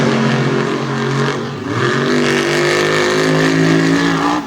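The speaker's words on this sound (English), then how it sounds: "And Dishman drove away from Vodders." A monster truck engine roars loudly at a drag race in Lima, Ohio, dipping briefly then revving back up and holding a strong, sustained drone as it pulls away.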